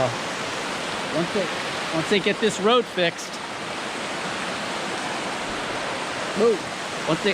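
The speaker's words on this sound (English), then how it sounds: "it's a beautiful, long waterfall, cascade over green schist" A long waterfall cascades over green schist in a river gorge, a constant close rushing wash that runs the whole time while someone talks over it in a few short phrases.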